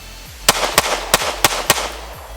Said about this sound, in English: Let's just take a couple shots here.